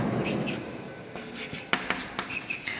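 Chalk or marker strokes on a classroom board during a physics lesson, a few sharp taps and scratchy strokes in quick succession, close and fairly quiet, following a stretch of low room noise.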